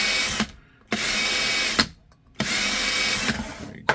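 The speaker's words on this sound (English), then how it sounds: "Oh, I never drilled the hood out." A power drill boring through a metal hood for a custom HK USP 45 TLR2 light mold, running in long loud whining bursts broken by short pauses, close to the listener with no voices.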